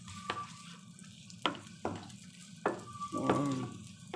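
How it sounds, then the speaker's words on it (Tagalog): Onions sizzling in a pan for buttered shrimp, a soft steady fry broken by several distinct scraping stirs of a utensil against the pan, close and fairly quiet with no talking. "So, lagyan na natin sibuyas para sumarap."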